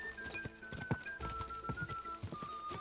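Horse hooves galloping in Kingdom Come: Deliverance II, a fast run of repeated clip-clop thuds under a steady high tone and game ambience, with a few heavier hoof hits standing out.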